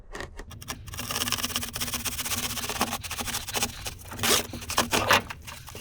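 Pipe insulation material being cut, a rough run of scraping, tearing and rubbing strokes with irregular bursts, close and fairly loud, no voices.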